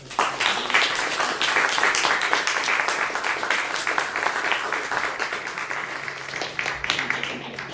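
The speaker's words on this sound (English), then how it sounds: "let's give them a big round of applause" After a question-and-answer talk at a concert venue, the audience breaks into sustained applause, a full dense clapping that gradually thins and fades toward the end.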